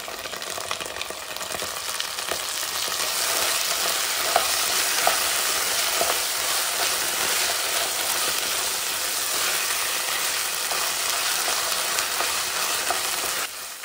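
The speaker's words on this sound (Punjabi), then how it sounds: "ਤਿੰਨ ਤੋਂ 4 ਮਿੰਟ ਤੱਕ ਟਮਾਟਰ ਭੁੰਨ ਲਏ, ਟਮਾਟਰ ਇੱਕਦਮ ਨਰਮ ਪੈ ਗਏ ਆ।" Tomatoes with onions and crushed ginger and garlic fry in a pressure cooker, giving a steady close sizzle with light stirring scrapes throughout and no voices.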